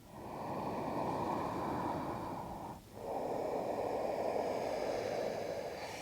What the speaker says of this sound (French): La respiration fluide, confortable, vibrante et sonore.